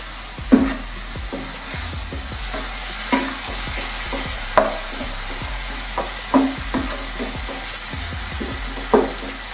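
Chicken keema fried and stirred in a pan, a steady sizzle with regular spoon scrapes and knocks every second or so, loud and close, with no voices.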